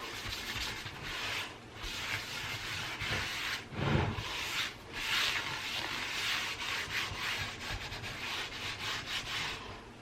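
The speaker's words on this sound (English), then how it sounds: "Rub this around the pan" Oil rubbed around a cast iron pan with a cloth or paper towel, a steady close scrubbing hiss with short rhythmic strokes and a couple of louder swipes.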